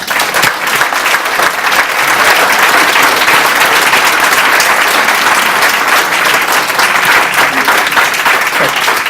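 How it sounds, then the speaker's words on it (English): An audience at a 2018 congressional debate event breaks into steady, full-room applause for both candidates, a thick even wash of clapping that holds loud from start to finish. "Everybody can clap for both people now."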